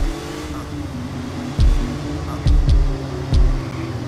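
A car engine in the video game Watch Dogs hums steadily, broken by three or four short, loud revving surges with tire noise, close and prominent.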